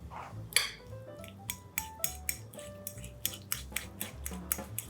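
A fork mashing hard-boiled egg yolks in a bowl, with a quick series of sharp metallic taps and clinks against the bowl, roughly a dozen strikes in an uneven rhythm, close and unaccompanied by talk.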